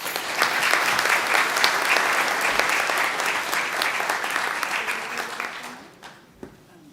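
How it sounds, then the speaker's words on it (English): Audience at a women's institutes annual general meeting applauding scholarship recipients, a full, dense round of clapping that holds steady and then tapers off into a few scattered claps. "please join me in a warm round of applause to celebrate our 2025 recipients"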